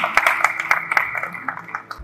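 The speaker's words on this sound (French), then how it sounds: "Merci d'applaudir." Conference audience at the 50th anniversary celebration of CPCCAF in Cotonou claps briefly, scattered hand claps mixed with voices and a faint low hum.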